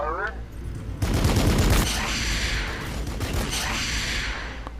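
Gunfire in Warhammer 40K Battle Sector erupts as a dense burst of rapid shots after a brief lead-in sound, then settles into sustained rumbling battle noise, loud and close.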